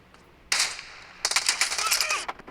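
Sniper rifle fire in the mobile game BGMI during a team deathmatch, heard as one sharp report followed by a longer, louder burst of rattling gunfire that carries on for about a second, with no talking.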